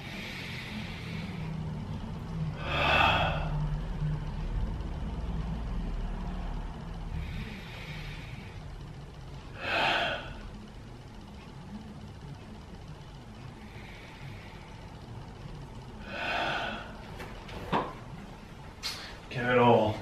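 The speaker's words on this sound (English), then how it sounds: "So nice big deep breaths." Slow, deep breaths during a gentle upper-body stretching routine come as soft, close airy rushes every few seconds over a low background rumble, ending with a brief burst of sound.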